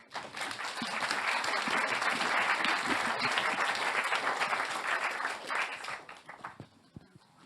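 An audience at a French conference on employing workers over fifty applauds the four speakers. Dense, loud, sustained clapping from a full room rises, holds for several seconds, then thins into scattered claps.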